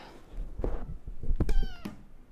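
A pet cat meows close by with two or three short, rising cries and a longer drawn-out final meow, alongside some soft thumps and handling noise.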